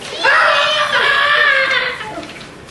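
A high, wavering shriek rises and trails off over a couple of seconds, strained and panicked, fading at the end.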